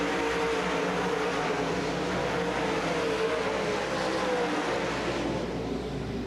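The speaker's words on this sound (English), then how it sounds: "Side-by-side battle on the speedway for the 3rd spot, Bob Pullman and" Dirt track race cars racing side by side on the Davenport Speedway at the 1996 UMP Summer Nationals, a continuous distant engine roar that blends into a broad, steady wash of noise.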